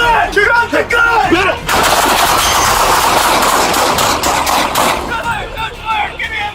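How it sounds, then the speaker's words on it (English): Police and a suspect trade gunfire in a rapid burst of loud, close shots lasting a few seconds, with shouting voices before and after the exchange. "Within seconds, gunfire erupted from both sides."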